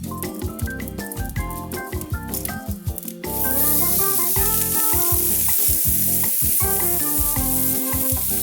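Seasoned whole trout, cleaned and gutted, hitting a very hot grill, with a steady close sizzle and frying hiss that rises and holds once the fish goes down, under some clattering at the start.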